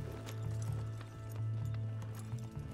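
Horse hooves clip-clop in a video game, a quick steady trotting rhythm of soft thuds over a low rumble, fairly close and with no talk over it.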